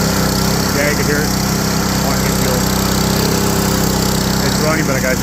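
An old generator engine runs steadily after an extreme cold start, a dense, continuous buzzing drone that stays close and loud throughout with no pauses.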